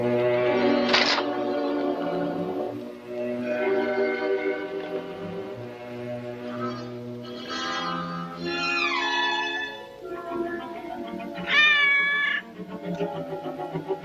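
A cat meows several times in a row, drawn-out and insistent, close and clear against a faint music bed, with no talking.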